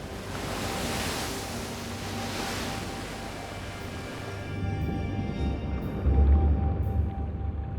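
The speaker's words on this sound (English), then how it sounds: "Huge waves and searing tides have been tearing at the rocky coast since time immemorial." Large waves break against the rocky coast of Orkney in a steady, moderately distant roar of surf, with wind rushing across the microphone and a brief low rumble near the end.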